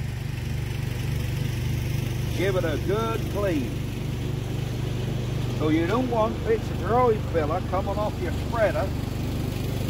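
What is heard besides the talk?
lawn mower running while grass is cut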